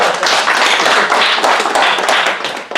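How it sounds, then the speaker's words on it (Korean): Audience clapping at a church gathering, a dense, steady patter of many hands at close range that tapers off at the end, with no talk over it. "우리 박수 한번 쳐주시죠."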